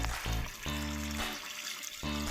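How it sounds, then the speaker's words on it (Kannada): Water is poured into a bowl of washed moong dal and rice to soak them, making a continuous close splashing rush with a low tonal hum running underneath. "ಈಗ ನೀರು ಹಾಕ್ಬಿಟ್ಟು ನೆನೆಸೋಕ್ಕೆ ಇಟ್ಬಿಡೋಣ"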